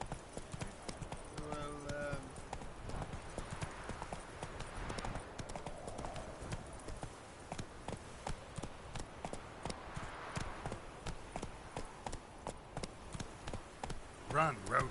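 Hooves of Roach, Geralt's horse in The Witcher video game, clip-clop in a fast steady galloping rhythm under game music and sound effects, with a player talking over it and a brief horse whinny.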